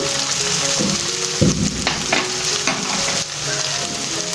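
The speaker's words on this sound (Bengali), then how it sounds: "অল্প অল্প জল দিয়ে একটু মশলাটা ভাজতে হবে।" Spice paste with turmeric and splashes of water frying in a wok for Punjabi-style egg tadka, a loud continuous sizzle broken by several scraping stirs and a sharp hiss midway.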